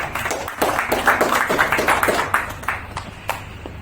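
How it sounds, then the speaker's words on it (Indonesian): A church congregation claps together in a worship service, a dense burst of hand claps lasting a few seconds that thins out and fades, with little talk over it. "Beri tepuk tangan untuk Tuhan."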